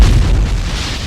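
A bomb explosion in a film, with a loud deep boom and a rumbling blast that fills the whole moment.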